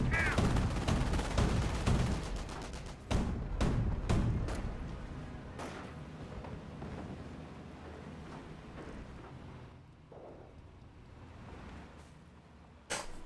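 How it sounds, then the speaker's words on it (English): MG42 machine gun fire in the World War II strategy game Company of Heroes, with dense bursts of automatic shots and sharp cracks in the opening seconds, then scattered louder reports over a battlefield rumble. "These guys are getting suppressed by the MG42."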